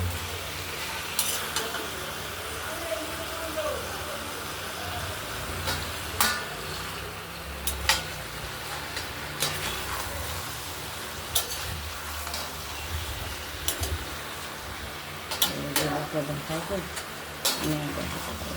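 Prawns are stir-fried together with taro curry in a pan. A continuous, close sizzle runs under repeated scraping and clattering strokes from a spatula, with sharper metallic knocks at intervals.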